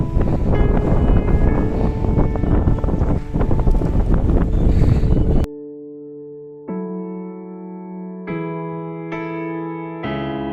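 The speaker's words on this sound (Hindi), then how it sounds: "बहुत तेज़ हवा चल रही है।" Loud, steady wind roar buffets the microphone for several seconds beside the Chenab River, then drops away, leaving a quieter outdoor hum with sustained tonal sounds.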